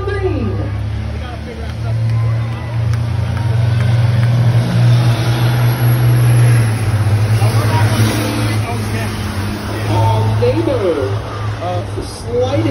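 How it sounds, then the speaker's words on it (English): School buses race on an oval track during a heat race, their engines roaring loud and steady throughout, with crowd babble and a commentator's voice mixed in. "green flag getting ready to wave here in heat race number one for the school buses"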